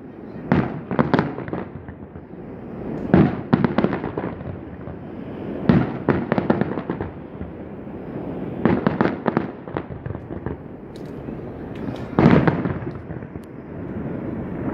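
Fireworks bursting over Amman Citadel in Jordan on Independence Day, in repeated clusters of booms and crackles, some close and loud, others more distant, continuing throughout.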